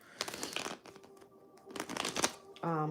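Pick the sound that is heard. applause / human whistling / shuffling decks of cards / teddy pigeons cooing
shuffling decks of cards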